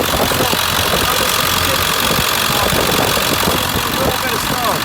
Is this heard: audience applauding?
no